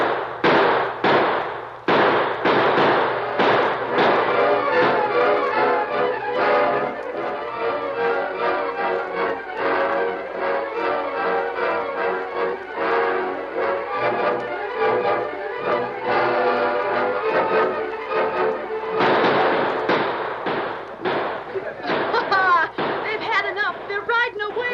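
Gunfire in a western drama shootout: rapid, repeated loud shots cracking in dense bursts over a sustained stretch, mixed with shouting and voices.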